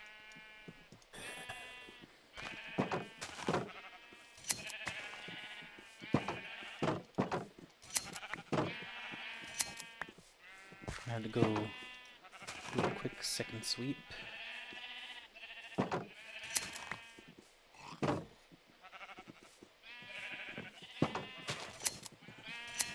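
Sheep in the Minecraft video game bleat repeatedly in short wavering calls while being sheared, heard alongside frequent talking throughout.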